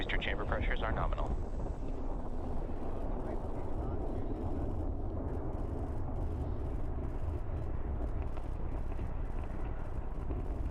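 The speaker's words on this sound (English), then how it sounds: "T plus 40 seconds into flight under the power of 5 million pounds of thrust." A SpaceX Falcon Heavy rocket climbs during launch ascent with a sustained, crackling roar that stays even and distant, heard under a broadcast commentator's voice.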